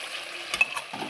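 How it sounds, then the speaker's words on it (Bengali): Soft chicken in a dry curry with spice powder sizzles quietly in a pan while being gently stirred, faint scraping clicks over a steady low frying hiss. "মশলা দিয়ে আবারও খুব সুন্দর করে নেড়ে চেড়ে নিচ্ছি।"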